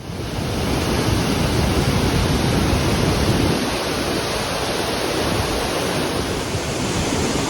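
Water pours through a disused lock spillway on the Erie Canal, a steady, loud broadband rush that stays constant throughout, like surf or a waterfall, with no voices.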